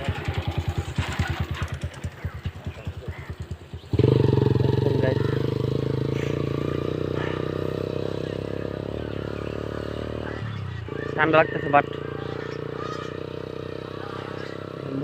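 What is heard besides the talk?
motorcycles passing by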